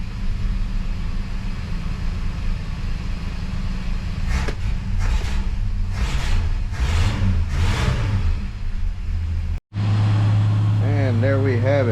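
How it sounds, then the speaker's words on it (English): A 1970 Plymouth Valiant engine idles loud and close, a steady rumble with a few brief rises in revs, then a short break before the idle resumes with a voice speaking over it. "Car's on, she's running."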